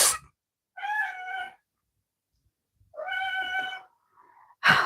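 A house cat meows twice, two clear drawn-out cries separated by a pause, close and alone in a quiet room.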